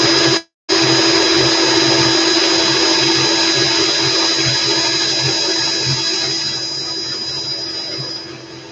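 An electric drill spins 24-gauge wire on a swivel to twist a Clapton coil, a steady, loud motor whine with a brief cut near the start, gradually easing off toward the end.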